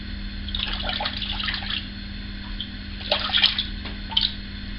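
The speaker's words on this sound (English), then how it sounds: "these things hold a lot of water in the head when you dunk them to rinse" A 1924 safety razor dunked and swished in a basin of water to rinse it after a shave, giving soft gurgling splashes in two short bursts over a low steady hum.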